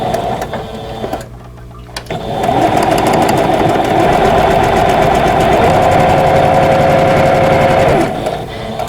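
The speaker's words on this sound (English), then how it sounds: "now we're ready to sew those two pieces together" A sewing machine stitching two quilt fabric pieces together for a vintage quilt block, running in a loud, fast, continuous whirring rattle after a short pause, then stopping at the end.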